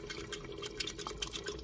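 Water draining out of the bottom exit of a push-pin during cleaning, faint close trickling and small drips with a light liquid patter.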